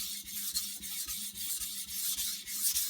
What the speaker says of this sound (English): Okay, so now I would move to my 400 grit stone. 400 or 500 grit would be fine here.